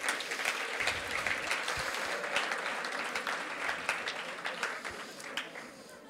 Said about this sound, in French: Allez, applaudissez-les, ceux qui sont là.